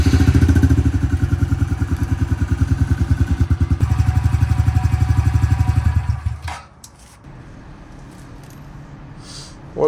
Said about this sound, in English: Gonna want to start the bike for 3-4 minutes,